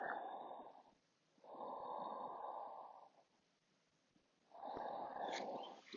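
Slow, deep breaths in a yoga child's pose, three long soft airy exhalations with quiet pauses between them, close and faint, with no talking.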